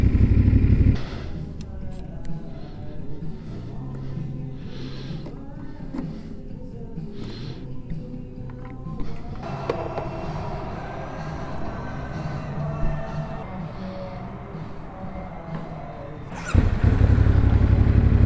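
A CFMoto 450SS motorcycle engine drones steadily while riding, a continuous low rumble with wind and road noise, louder bursts at the start and end, mid-distance and unbroken.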